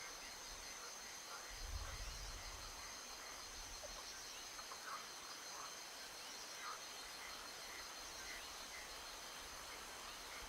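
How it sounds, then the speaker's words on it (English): Frogs croak faintly in the distance over a steady outdoor chorus of insects, with soft scattered calls and no voices. "Good frog sounds."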